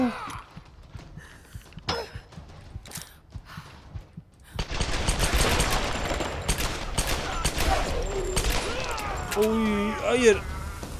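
Dense, loud gunfire from the Tomb Raider video game erupts partway through, with sustained bursts of shots after a quieter stretch of scattered sounds and talk, and a voice speaks near the end.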